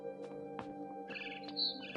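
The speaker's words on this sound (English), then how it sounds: "Then I heard chirping outside my window." A barn swallow chirping outside a window in the video game What Remains of Edith Finch: short, bright chirps over a steady tonal music bed, fairly quiet.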